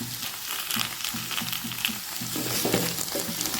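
Onions and vegetables frying in oil for dal soup sizzle loudly and continuously up close, with occasional stirring scrapes through the hiss and no talking.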